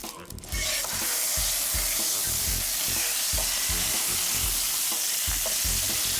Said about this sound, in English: Now we heat the pan on medium-high heat and add about 1 tablespoon of oil